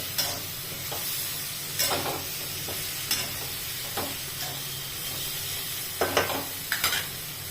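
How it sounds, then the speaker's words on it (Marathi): Tomatoes sautéed in a pan, a low steady sizzle with repeated clanks and scrapes of a spoon stirring against the metal, close and without speech. "टोमॅटो पण छान असा परतवून घ्यायचा आहे"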